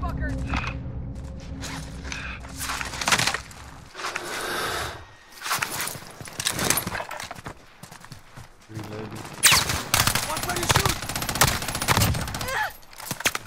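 Enemy gunfire in Call of Duty: Modern Warfare, irregular bursts of shots and sharp cracks, some close and loud, others more distant, mixed with mechanical game sounds and a player talking.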